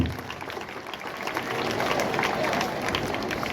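Crowd applause at a school sports event honouring under-14 relay runners, a dense steady patter of many hands swelling after the first second and holding, with faint voices underneath.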